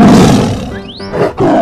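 A tiger's roar, loud and close, swelling into a rough growl with a rising whine on top, then a brief dip and a second burst at the end.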